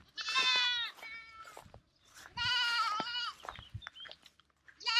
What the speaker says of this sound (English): I can't stand out here all day talking to goats.